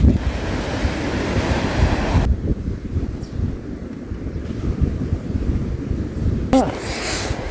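Steady rush of sea waves washing on the shore with heavy wind noise buffeting the microphone, no voices.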